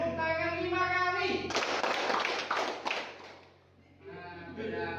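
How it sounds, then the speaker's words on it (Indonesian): Students in an Indonesian classroom clap in unison five times, a fast run of sharp, loud claps set between a teacher's spoken instructions. "Terakhir tepuk tangan 5 kali."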